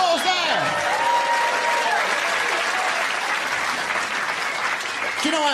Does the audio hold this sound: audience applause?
yes